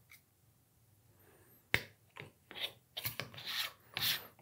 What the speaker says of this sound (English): Gonna fluff these grinds up again. Beautiful WDT tool does its magic.